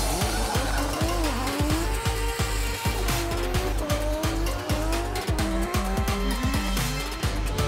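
A Lexus RC F on an open road near Limuru, Kenya, revs loudly through repeated rising engine notes and gear shifts, close and continuous, with sharp tire and road noise throughout.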